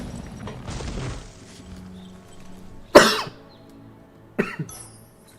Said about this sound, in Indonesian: Sorry gue batuk-batuk ya guys.